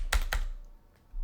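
A computer keyboard tapped while a fake credit card number is entered for testing a checkout bot: two quick, close keystrokes, then near silence.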